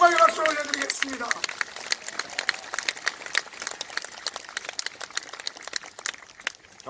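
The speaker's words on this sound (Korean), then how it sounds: "우리 하나님께 영광의 박수 올려드리겠습니다" Applause rises at a Christian worship rally in South Gyeongsang, South Korea, a dense patter of many hands clapping that continues steadily and tapers slightly, with a voice speaking briefly at the start.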